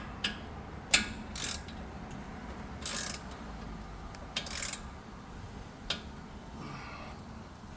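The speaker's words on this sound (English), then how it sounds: "Click. That's my torque wrench, guys." A torque wrench clicks on a brake caliper bolt during rear brake work on a 2020 Hyundai Kona, giving a few sharp, close ratcheting clicks and snaps spaced irregularly over quiet background.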